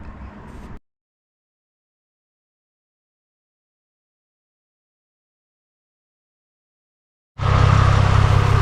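Nissan 350Z engine running after an oil cooler install, a steady loud mechanical drone that cuts out early and returns near the end after a long stretch of silence.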